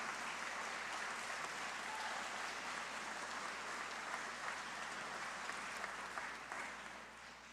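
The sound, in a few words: audience applause at art contest award ceremony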